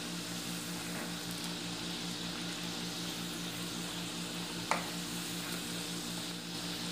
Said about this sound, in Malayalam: വളരെ പെട്ടെന്ന് തന്നെ ഇത് ഫ്രൈ ആവും